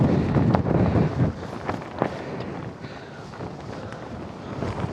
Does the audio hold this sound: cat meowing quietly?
no